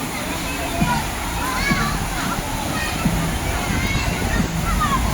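Steady rushing river water with splashing and sloshing at Panguil River Eco Park in Laguna, loud and continuous, with voices faintly in the background.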